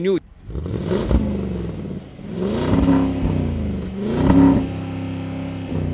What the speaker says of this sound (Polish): Pochodzą na równi z silnika V8 o imponującym brzmieniu